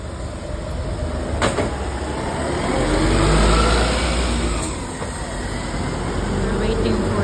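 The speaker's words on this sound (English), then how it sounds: "So that's bus" A route 280 city bus in Tooting, London, pulls away from the stop, its broad engine rumble and road noise swelling to a peak mid-way and then easing off, with a couple of brief sharp clanks along the way.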